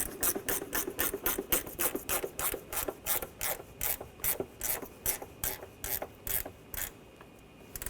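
A ratchet tightening a nut onto a bolt during timing belt and water pump work on a Honda Pilot V6, rapid rhythmic clicking in bursts, close and clear, slowing and fading out near the end.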